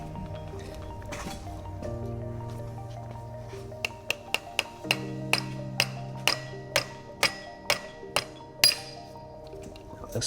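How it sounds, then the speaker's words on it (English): Hammer blows on the cross shaft of a Jeep Gladiator axle during a TORQ locker install: about a dozen sharp metallic strikes in a steady rhythm over the second half, ringing out above a low hum. "Actually, can you grab me that red hammer behind you, Nick?"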